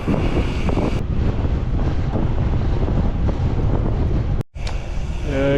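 Strong wind buffets the microphone while gravel cycling on an exposed stretch, a loud, continuous rumble with a brief cut-out near the end.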